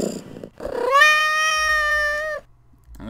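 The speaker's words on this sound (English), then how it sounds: "Stop meowing. I'm gonna let you out in a minute." A cat in the video game Bosch's Damnation gives one long, loud, drawn-out meow lasting over a second, clear and close, preceded by a short rough sound.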